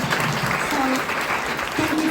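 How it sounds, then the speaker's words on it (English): A crowd gives a round of applause to models at a curvy model search event, a dense, sustained burst of clapping lasting about two seconds, with some cheering and voices mixed in. "So round of applause to these ladies"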